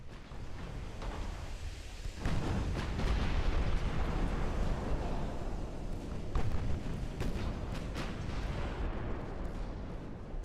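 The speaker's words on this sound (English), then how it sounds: "We just took an ammo detonation." A warship's ammunition magazine detonates in the naval battle game Ultimate Admiral Dreadnoughts: after a quieter start, a loud, deep explosive roar bursts in and rumbles on steadily, with cracking blasts layered through the dense, sustained boom.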